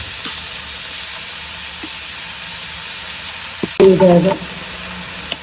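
Chicken fried rice cooks over full heat in a pan with a soft, steady frying hiss. Soy sauce hits the pan and sets off a sudden loud sizzling burst, and a voice is faintly heard.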